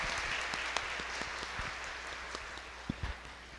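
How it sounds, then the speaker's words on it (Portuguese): A congregation applauds during a church baptism of a child, a steady room-filling patter of clapping with a few louder individual claps standing out near the mic. "Uma salva de palmas para Levi,"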